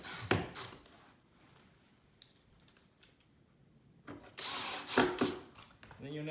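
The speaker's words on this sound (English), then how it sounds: "These pocket screws just screw right down." Power drill driving pocket screws into a wooden farmhouse shoe bench, with a few short, loud whirring bursts near the start and again toward the end, separated by quieter handling noise.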